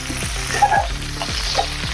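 Loud crackling sizzle of dried red chillies frying in hot oil, with a few stirring scrapes in the pan.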